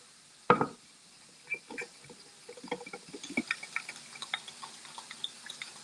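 Water is poured into a soy sauce and cornstarch sauce in a home kitchen, starting with a sharp knock, then scattered drips, splashes and small clinks close by.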